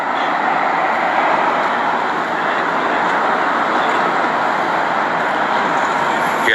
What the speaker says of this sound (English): that train is moving real slow